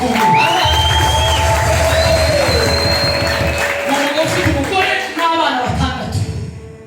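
A church congregation applauds and cheers in a dense, loud burst of clapping and whoops with children shouting, fading toward the end, with voices over it.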